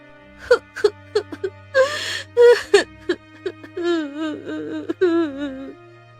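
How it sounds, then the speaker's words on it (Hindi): Someone crying in a Hindi cartoon moral story: broken sobbing gasps followed by long wavering wails and whimpers, close and fairly loud over a soft musical background. "तभी उसे किसी के रोने की आवाज आती है"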